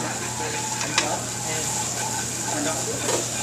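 Blanched pureed garlic sizzles steadily in a pan while escargot is prepared, a constant frying hiss with a few faint stirring clinks, moderately loud and close throughout.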